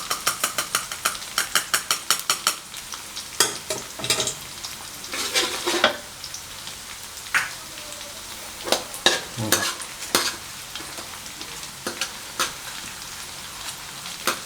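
Shallots stir-fried in medium-hot oil for pork crackling chili paste, a steady sizzle broken by repeated sharp scraping clicks of a utensil against the pan, fast at first and then spaced out, close and alone.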